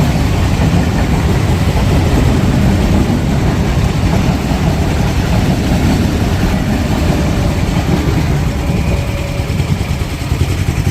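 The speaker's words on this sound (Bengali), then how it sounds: "গাড়ি আসছে, দেখা যাক ওইটা কি না" A car engine rumbles loud and close as it arrives and settles into a continuous idle, with no break for the whole stretch.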